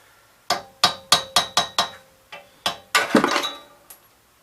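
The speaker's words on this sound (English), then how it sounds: "I ended up being able to take the hammer and chisel" A hammer drives a chisel into the flywheel of a 1967 Gravely 430 tractor, giving a quick run of sharp metallic clanks. A pause follows, then a louder, ringing clatter as something breaks free, all close by.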